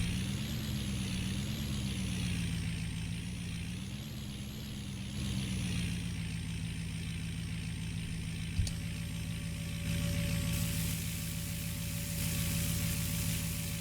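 A truck in a farming video game pulls a larger loaded trailer toward the mill, its steady engine drone carrying through with a brief clunk partway. The engine is loud and continuous, with no talking.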